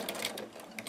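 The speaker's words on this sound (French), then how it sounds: "je soulève le pied et je le tourne de façon à terminer ma couture sur le bout en diagonale" A domestic sewing machine stitches the last diagonal stretch of a seam on fabric, a quick run of rapid needle clatter heard close up with a soft motor hum beneath.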